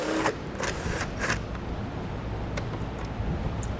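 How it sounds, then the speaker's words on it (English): A 10mm socket ratchet takes out the bolts holding the sensor bar on a 2020 Tesla Model Y; a handful of short, sharp clicks sound close by over a low, steady background hum. "10mm socket, we're going to move the 4 bolts holding our sensor bar in place."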